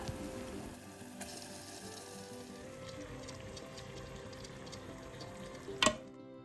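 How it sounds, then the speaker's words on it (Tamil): Washed mutton pieces go into a frying pan of softened onions, giving a steady low sizzle and wet hiss with a brief louder clatter near the end. "இதில் வந்து நான் வாஷ் பண்ணி வச்சுருக்கிற மட்டன் பீசஸ் வந்து நான் சேர்த்துக்க போகிறேன்"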